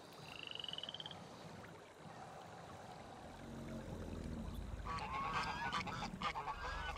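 Geese honk at a wildlife-rich waterside spot shared with crocodiles and hippos, a rapid honking burst early on, then distant calls over a low croaking and rumbling background that grows louder toward the end.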